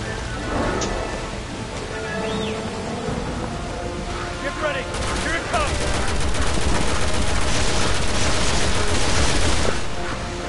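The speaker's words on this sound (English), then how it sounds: "Oh man, I shoot that TNT." Gunfire and an exploding TNT barrel in the Resident Evil video game, a run of sharp shots followed by a loud, dense burst of blasts and crackling debris that swells and fades.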